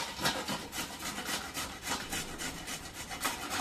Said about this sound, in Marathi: तर आपण ना गाजर असे खिसून घेऊया।